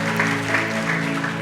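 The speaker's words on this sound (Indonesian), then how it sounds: "Berikan tepuk tangan meriah buat Tuhan kita." Church congregation applauding during a worship service, a steady wash of many hands clapping at moderate level for the whole short stretch.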